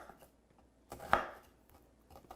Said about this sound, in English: one last slice into the onion